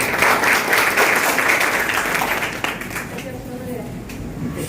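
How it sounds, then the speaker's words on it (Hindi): An audience at a community event on women's development bursts into loud, dense applause that gradually thins and fades, with a voice briefly audible as the clapping dies down. "आप सबको भी गुजारिश करती हूँ कि उनके लिए हम लोग एक बार जोरदार तालियां बजाएं।"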